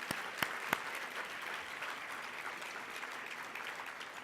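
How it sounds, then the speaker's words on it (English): An audience at a 2013 keynote applauds the NLA team. A few sharp individual claps open the round before it settles into a steady, fairly distant, even patter of applause. "I think we ought to give them a round of applause."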